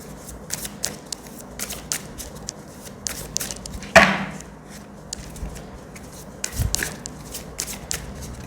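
Tarot cards are shuffled by hand in quick riffling bursts, close and fairly soft, with one sharper louder riffle midway and irregular pauses between, no speech.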